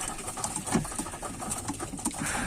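Tumbler pigeons on a rooftop make soft, close coos and rustling flutters over light background noise.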